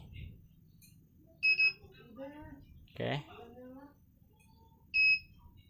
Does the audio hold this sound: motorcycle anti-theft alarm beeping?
yes